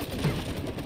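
Rapid gunfire aimed at a robot in the co-op game It Takes Two, a dense burst of shots packed into under a second, loud and close.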